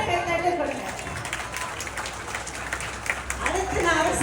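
Applause from a crowd at a school sports day, a steady dense patter of many hands clapping throughout, with a voice over a loudspeaker talking above it.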